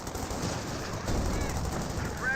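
Dense, continuous machine gun fire from a Company of Heroes 2 battle, a steady rattling barrage with artillery-like rumble underneath, busy and loud throughout with no clear gaps.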